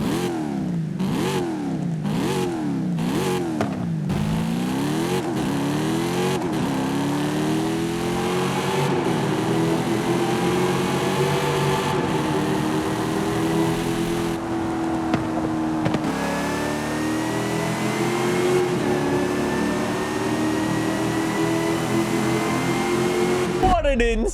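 A Dodge Durango Hellcat SUV, a 700-horsepower factory V8, revs hard in Forza Horizon 5, with repeated rising and falling engine sweeps and gear-change dips, then long sustained pulls at high revs, loud and close throughout.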